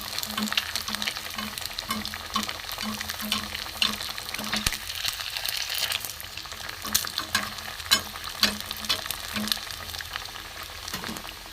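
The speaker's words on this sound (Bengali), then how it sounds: "কড়া করে ভাজবো লাল করে তুলে নেব" Semolina-stuffed cauliflower pieces deep-fry in hot oil, a steady bubbling sizzle with repeated soft stirring knocks at a near, moderate level, with no voices.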